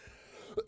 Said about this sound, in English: there's that cough I was telling you about